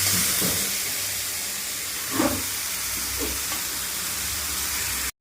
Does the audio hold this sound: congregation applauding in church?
no